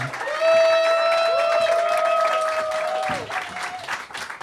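Clapping from a club show audience swells quickly and holds steady, overlaid by a long, loud, tonal cheer or whoop, then fades into scattered claps near the end.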